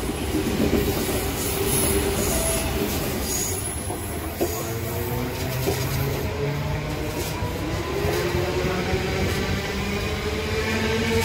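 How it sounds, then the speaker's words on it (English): An NGR electric passenger train on the Brisbane Airport service runs past platform 2 at Taringa station, loud and close, with continuous wheel rumble, rail clatter and rising squeals for the whole stretch and no voices. "Passing platform 2 at Taringa, we have Brisbane Airport Service, NGR 725."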